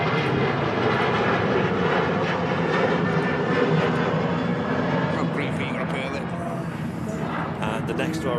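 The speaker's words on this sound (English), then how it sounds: "Ryanair leaping off 23 right." A Ryanair jet taking off from runway 23 right at Manchester Airport on a windy day, giving a steady, loud, broad engine roar heard from a distance that thins slightly toward the end, with people talking over it.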